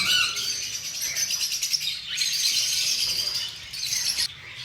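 Pet birds chirp and twitter continuously from cages, a dense mix of high, bright calls at moderate loudness with no talking.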